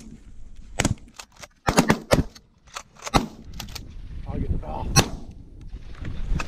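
Shotgun blasts during an early-season goose hunt in Wisconsin, several sharp loud reports fired in quick irregular bursts, with hunters' voices faintly between the shots.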